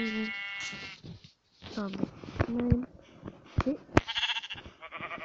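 Sheep bleating in the video game Minecraft, short harmonic bleats scattered through the clip, mixed in with close talking and game sounds.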